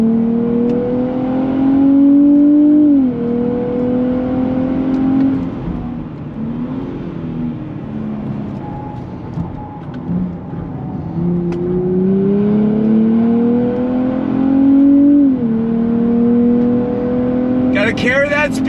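A 2023 Nissan Z Performance with automatic transmission accelerates hard on a cone course, its engine note climbing and dropping through repeated shifts, loud and close from inside the car.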